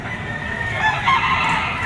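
A Gilmore green-legged gamecock with a straight comb crows at a Lipa, Batangas fighting-cock market, one drawn-out call rising over a steady, noisy crowd background.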